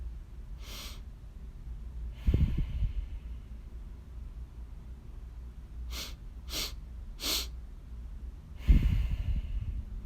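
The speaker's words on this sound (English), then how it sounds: "So inhale, inhale, inhale." Repeated quick inhaling breaths during a yoga exercise, sharp nasal sniffs in short clusters with a couple of heavier exhaling sighs, close and clear with no speech.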